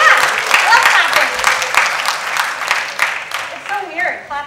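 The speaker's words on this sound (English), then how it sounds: "Oh yeah, I love clapping." Audience applause at a JavaScript conference talk, brief clapping from the crowd mixed with a speaker's voice talking over it, fairly loud and close.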